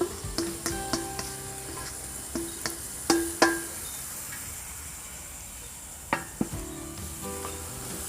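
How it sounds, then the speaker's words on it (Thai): Instant noodles are stir-fried with egg and cabbage in a pan, a moderate steady sizzle punctuated by clusters of sharp metallic spatula clanks against the pan, with quieter stretches between. "ผัดคลุกเคล้าอีกหนึ่งรอบครับ"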